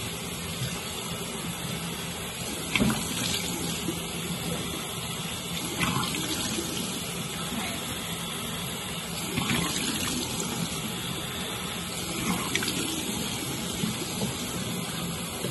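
Running tap water pours steadily into a sink while a face mask is rinsed off, with a constant close splash and small irregular surges of splashing as the hands move through the stream. No one speaks.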